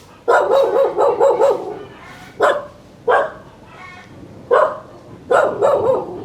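Several dogs barking on an island in Saigon, loud and near, in repeated bursts of rough, strained barks separated by short gaps over steady outdoor background noise.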